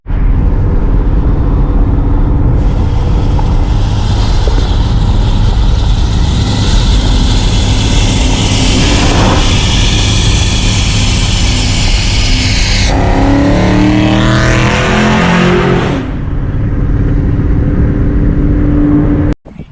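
A straight-piped V8 Hemi car engine rips past at close range, loud and sustained, with a rising and falling pitch sweep as it passes and fades near the end.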